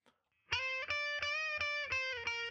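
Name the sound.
distorted electric guitar, rhythm preset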